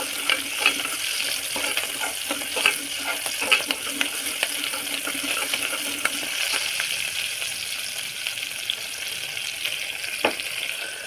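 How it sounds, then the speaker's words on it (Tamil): Onions and curry leaves frying in a pan for a mutton biryani side dish, a steady soft sizzle with occasional faint clicks and stirring taps throughout. "வெங்காயம் நல்லா வணங்க விடுங்க. கருவேப்பிலை போட்டுக்கோங்க."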